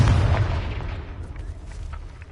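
A deep, booming blast from the Confringo fire spell in Hogwarts Legacy, loud and close at first and then rumbling away over a couple of seconds, with no voices.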